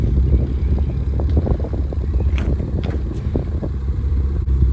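A Ford Fiesta ST idles on a freshly fitted aftermarket exhaust, a low, steady rumble close by with a few faint ticks and taps over it, no voices.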